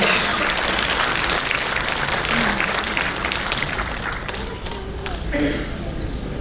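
Audience applause at a corporate award ceremony marking NHPC's 49th Raising Day, a steady broadband clapping that fills the room for the full stretch, staying fairly even in loudness and tapering slightly near the end.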